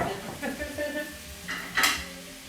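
Celery being stirred into a pot for white bean soup, with scraping and clinking of a utensil against the pot over a soft sizzle, a few distinct strokes close by and no talk.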